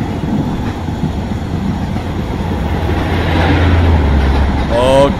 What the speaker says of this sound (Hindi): सुपरफास्ट ट्रेन LHB कोचेस के साथ क्रॉस कर रही है यहाँ पे हमारी कालका मेल को